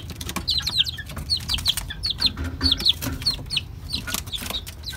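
Young stag chickens, males and a female, cluck and chirp repeatedly in short bursts close by, with wings flapping and faint background rustling.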